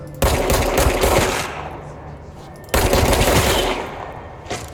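Gunfire from the player's gun in the video game Control, two loud, close bursts of rapid automatic fire, each lasting about a second and a half and tapering off, separated by a short gap.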